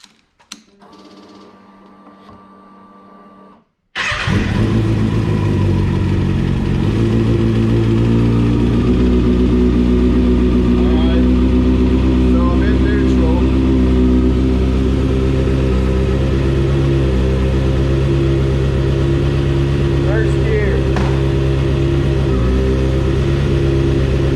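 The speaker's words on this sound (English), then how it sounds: "the bike will still start in neutral and it'll stay running" A motorcycle engine, left in neutral, starts abruptly after a few seconds of quiet low hum and then runs at a steady, loud idle with a rapid even chug throughout, no voices over it.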